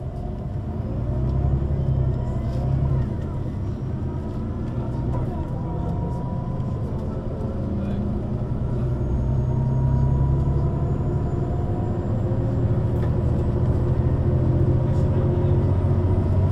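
A Neoplan N 4416 city bus from August Jütte GmbH in Oberhausen drives along, heard from inside as a loud, steady engine drone and road rumble throughout, with faint passenger voices under the noise.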